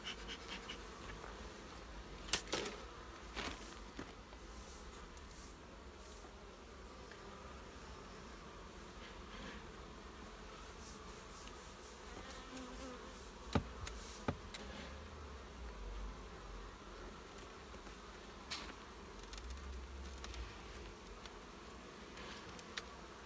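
Honey bees buzzing around an open beehive during an inspection, a dense continuous drone close by with occasional louder passes of single bees and small clicks, with no talking.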